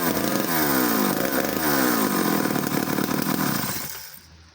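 Long-handled Danarm DDA110 British chainsaw with a high-compression engine runs loud and close, its buzzing two-stroke note revving and wavering before cutting off abruptly at the end.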